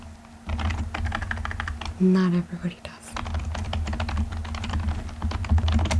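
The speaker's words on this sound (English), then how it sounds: "there are some, like myself, that loves the sound of keyboards" Rapid clicking keystrokes on a computer keyboard clatter steadily and close by, briefly pausing while someone speaks softly, then resuming.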